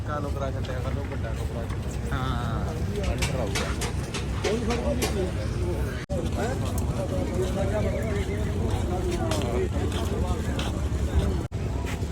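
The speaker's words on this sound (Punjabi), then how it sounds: "ਆ ਖੜਾ ਮਿੱਤਰੋ ਨਵਾਬ ਘੋੜਾ" A horse neighs at a horse fair in Jagraon, heard amid a continuous loud din of crowd noise, with someone talking over it throughout.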